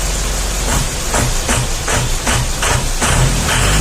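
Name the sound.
Mitsubishi L300 engine revving with bad noise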